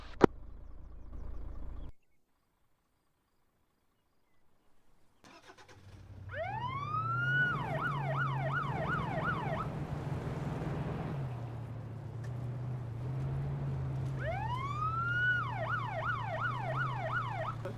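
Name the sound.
police car siren, from video game Arma 3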